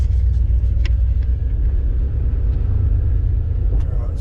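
A car engine idles while warming up after an ignition fix, a close, steady low rumble with slight unevenness and no speech.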